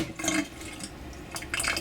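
Water poured off a pot of rice to lower it to the needed level, a close splashing trickle with brief louder bursts near the start and end, no talking.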